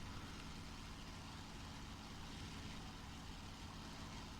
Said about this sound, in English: I hear an engine might be coming from the clouds